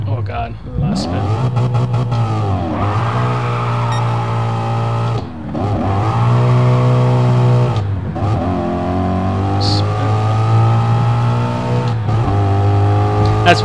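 A 650 hp Ford Mustang GT in Gran Turismo Sport with a drag setup launches hard, the engine revving loudly and climbing through several gear changes, with a steady low drone underneath.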